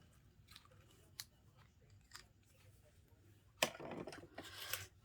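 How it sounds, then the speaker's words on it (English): Metal snips cut card stock for a handmade frame card, a few faint, crisp clipping snaps and then a louder burst of cutting near the end in a quiet room. "Get your snips."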